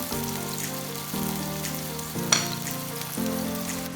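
Stuffed bread filled with meat and bell pepper frying in an oiled pan, a steady close sizzle with a faint background hum and a single sharp clink partway through.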